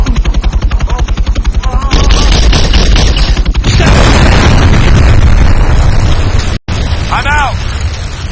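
Rapid automatic gunfire in the video game ArmA 3 on the Altis map, loud and continuous bursts of shots with heavy booms, broken by a brief gap, while voices talk over it.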